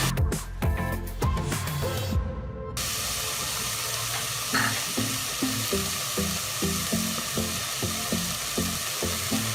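Chickpea masala for Kathiawari chana chaat being stirred in a hot pan, a steady close sizzle with a regular rhythm of spoon scrapes and knocks against the pan, and no talking.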